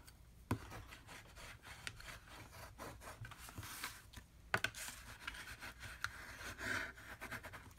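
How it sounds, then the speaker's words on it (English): Glued paper is rubbed down by hand onto a book box, giving faint, close scraping and brushing strokes with a few light taps, quiet and without speech. "And then we go ahead and rub that down."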